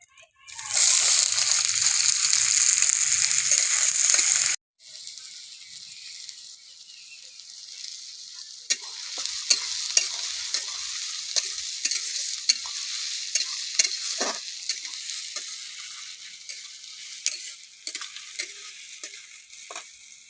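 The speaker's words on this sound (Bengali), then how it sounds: "এবার দিয়ে দেবো পেঁয়াজ কুচি" Chopped onions hitting a hot pan, with a loud hiss for the first few seconds that drops to a steady crackling fry with scattered spatula stirs, near and with no talking.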